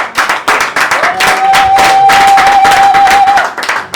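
A church congregation claps and cheers together, a steady, close applause that swells and holds for several seconds, with a sustained tone ringing through the middle.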